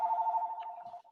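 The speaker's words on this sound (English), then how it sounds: "That's a phone call from school." A telephone rings with a steady warbling electronic tone lasting about a second before cutting off, clear and fairly close, with no voices over it.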